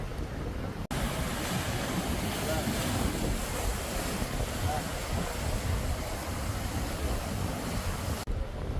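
Rough Caribbean surf on Aruba rolling and crashing continuously, with heavy wind buffeting the microphone and no clear voices.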